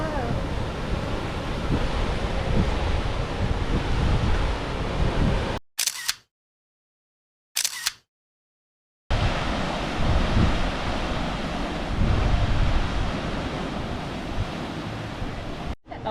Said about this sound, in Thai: คลื่นชนกับหน้าผา